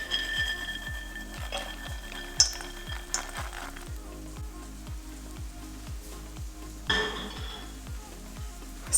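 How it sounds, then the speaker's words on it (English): A kitchen timer beeps in a home kitchen while pork tenderloin roasts, thin high electronic tones sounding at the start and again near the end over a low steady sizzle and faint clinking. "so this just beeped"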